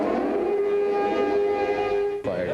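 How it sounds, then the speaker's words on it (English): A steady wailing air raid siren holds a sustained tone from a distance in Haifa, Israel, continuous and droning, ending with a brief shift in pitch. "As we stood outside the destroyed apartment, another series of sirens."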